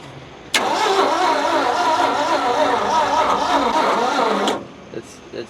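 An abandoned 1971 Ford F100 truck engine cranks steadily for about four seconds without catching, a loud close rhythmic churning of the starter that cuts off abruptly, followed by quiet.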